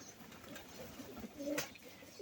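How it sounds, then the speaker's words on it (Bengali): Pigeons waiting to come down for food give a few soft, low coos, faint and close, over a quiet background. "কবুতরকে খাবার দেব। কবুতর নামার প্রস্তুতি নিচ্ছে"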